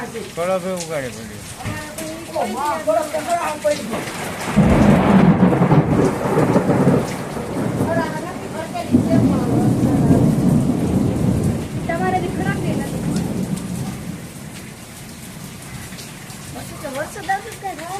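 Heavy unseasonal summer rain pours down steadily as deep rolling thunder swells and fades, with people talking intermittently over the storm.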